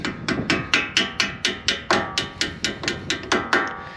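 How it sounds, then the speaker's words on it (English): A hammer taps a front brake spring into place on a Lexus GX460 during a pad and rotor job, about a dozen sharp metallic strikes in a steady rhythm, close and clear with no talk. "Tap"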